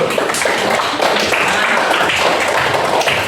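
Classroom applause fills the space, a dense, steady wash of many hands clapping together from start to finish, fairly loud and close, with a few voices mixed in underneath.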